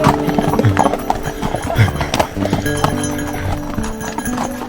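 Horses' hooves clip-clop steadily along a trail in Glacier National Park, Montana, on a ride toward the Ptarmigan Tunnel and Iceberg Lake, with occasional louder hoof strikes close by amid rustling and soft background noise.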